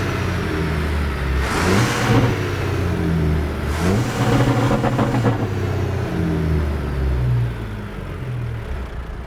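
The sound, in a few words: Detroit diesel 14-liter truck engine revving to rev limiter, American Truck Simulator video game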